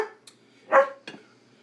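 Dogs bark indoors in a home kitchen, three sharp separate barks, the middle one loudest and close, with short silent gaps between them.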